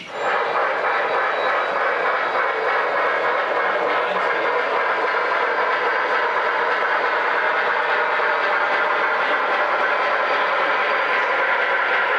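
A continuous rumbling roar of a long model train running on a layout, steady and fairly loud throughout with a dense mechanical drone and no pauses.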